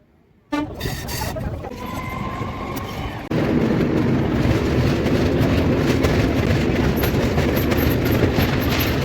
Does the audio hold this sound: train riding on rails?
yes